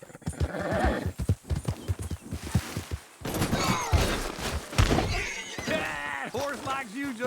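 Rhythmic hoof clip-clops of a horse in a video game thud along under people talking, with a horse whinny and scattered clatter in the background.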